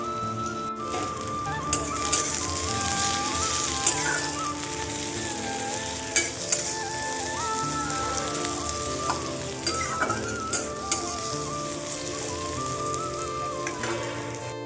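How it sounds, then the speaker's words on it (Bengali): Kidney beans sizzle and fry in a pan with ginger, garlic and onion, a constant crackling hiss broken by occasional louder pops and clinks from stirring, close up and without speech. "এই রাজমাটাকে এখন হচ্ছে আদা রসুন একটু পেঁয়াজ দিয়ে ভালো করে সাঁকলে নেব"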